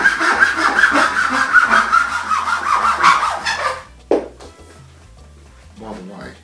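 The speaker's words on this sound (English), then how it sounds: "Cut a bit of dowel like that." Sawing with a Japanese back pull saw through a wooden dowel: quick rasping back-and-forth strokes fill the first few seconds, close and loud, then stop, followed by a few light knocks and handling sounds.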